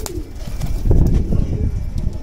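Golden breeder pigeons coo in low, throaty murmurs, several birds overlapping nearby, with light rustling and a brief chirp in the background.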